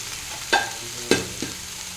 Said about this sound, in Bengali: আর একবার ভেজে নিই।